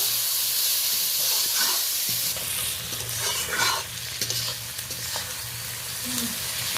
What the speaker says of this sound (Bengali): এই পর্যায়ে আমি কাঁচা লঙ্কা, টমেটো, পেঁয়াজ দিয়ে দিলাম। এটা ভালোভাবে ভেজে নেব।